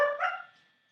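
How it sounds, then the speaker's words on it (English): A single dog barks sharply nearby, one loud bark that quickly fades into a short ringing tail, with no talking. "Sorry about that, it's the dogs."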